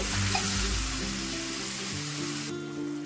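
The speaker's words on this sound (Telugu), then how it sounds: "మనం ఇందులోకి కొద్దిగా ఒక పావు గ్లాసు నీళ్ళైతే వేసుకోవాలి" Curry sizzles and fries steadily in a hot pan after a quarter glass of water is poured in, a continuous hiss with soft stirring underneath.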